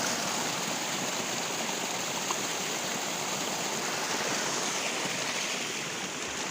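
A small waterfall pours into a river with a dense, steady rushing roar, unbroken and fairly loud throughout, with no voices.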